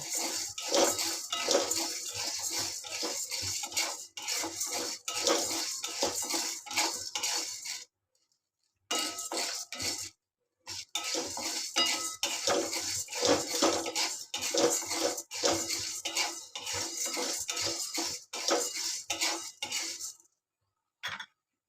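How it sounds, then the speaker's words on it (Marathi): Dry chana dal rattles and scrapes against a metal wok as it's stirred over low heat, a continuous clattery rustle with a couple of brief pauses. "चणा डाळ बारीक गॅसवर खरपूस भाजायची."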